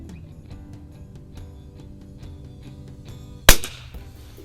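A single sharp crack from a Mossberg 46B .22 LR tube-fed bolt-action rifle with peep sights rings out at an outdoor range after a stretch of faint background ticking, loud and close, with a short decay.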